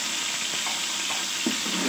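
Four large onions fry with whole garam masala in a pot for Lahori bong paye, making a continuous dense sizzle up close, with a faint stir or clink near the end.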